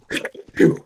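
A single short sneeze, close and fairly loud, made of a quick intake burst followed by a stronger explosive release, heard alone with no talk.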